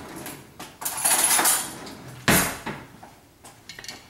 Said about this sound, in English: Let me get a bigger spoon.